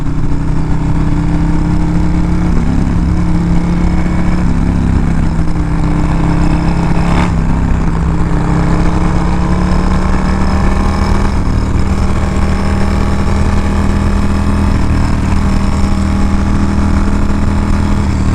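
Motorcycle engines rumble continuously while riding through Catskill terrain, including a 1987 hot rod FXR, a loud, close, steady drone with shifting pitch as the bikes accelerate and ease off, with no talking over it.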